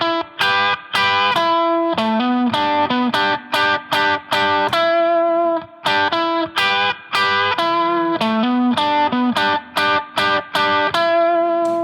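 A distorted electric guitar plays a fast solo lick, repeated bends and choppy note bursts with brief gaps, loud and up front with no talking.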